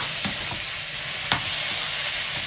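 Tomatoes sauté in a pan for poondu karuveppilai vatha kuzhambu, a steady close sizzling hiss with a couple of soft stirring taps and no voices.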